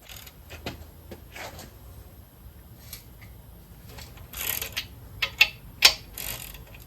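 A ratchet loosens the main bearing cap bolts on a 351 Cleveland engine during a build, with scattered clicks and metallic clatter that rise into a few sharper, louder bursts near the end, close by with no talk.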